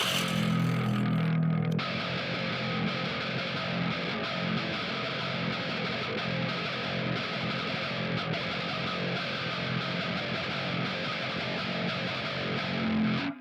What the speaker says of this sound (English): you also want to use a lot of distortion, the louder the better. I just want to play mainly open notes, so something like this